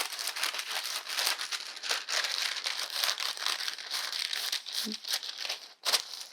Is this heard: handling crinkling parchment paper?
yes